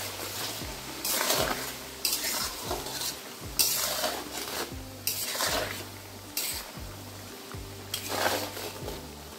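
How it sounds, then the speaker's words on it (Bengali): Garlic cooks in spices for a garlic pickle with white vinegar, giving a steady, close sizzle under a rhythmic series of spoon scrapes and knocks against the pan, repeated about every second, with no talking. "দশ মিনিট মতো রসুনটাকে আমি রান্না করে নিলাম মশলার সঙ্গে।"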